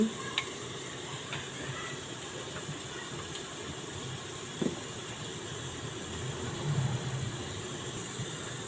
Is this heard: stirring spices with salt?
yes